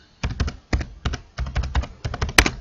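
Fingers typing on a computer keyboard, short bursts of crisp key clicks in quick clusters separated by brief pauses, close and clear with no talking.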